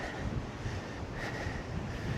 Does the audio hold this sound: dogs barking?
no